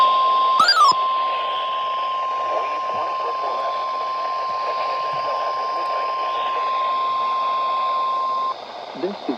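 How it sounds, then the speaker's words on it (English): A NOAA Weather Radio All Hazards warning alarm tone sounds loud and steady during a weekly test for station KHB38 in Atlantic City, New Jersey, a sustained single pitch held for about eight seconds over a broadcast voice. "This is a weekly test of the NOAA Weather Radio All Hazards Warning device."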